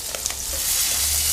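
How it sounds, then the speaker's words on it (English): Pancetta sizzles steadily in a frying pan while it is stirred, with a few soft scraping stir sounds early on over a continuous close, even frying hiss. "Gonna give my pancetta a little stir."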